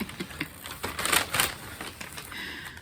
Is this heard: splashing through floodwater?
no